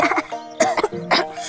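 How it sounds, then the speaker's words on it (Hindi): A person coughs and clears their throat in a few harsh bursts, close and fairly loud, in a staged comedic scene from a children's fantasy TV series. "खांसी खांसी निकल जाती है।"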